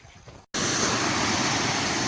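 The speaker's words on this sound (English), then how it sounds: "this is the tallest waterfall on the Appalachian Trail" The tallest waterfall on the Appalachian Trail roars as a steady, loud rush of falling water, starting abruptly after a short cut and continuing without a break.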